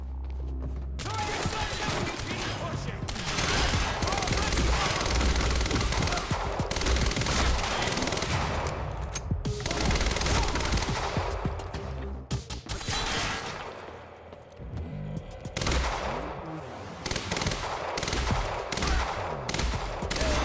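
Rapid bursts of Advanced SMG fire in the video game Quantum Break, dense repeated volleys with short pauses between them, loud and continuous, and a player's voice faintly audible.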